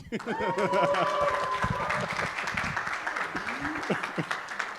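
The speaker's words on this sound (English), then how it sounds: "keep clapping as she sits" An audience applauds at a graduation ceremony, a steady wash of clapping that holds at moderate loudness, with voices and shouts mixed in.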